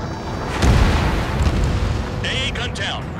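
A heavy, booming explosion as an AA gun is destroyed in the Ace Combat 7 flight game at Sipli Field. It is a single loud blast with a rumbling tail, set against steady background game noise.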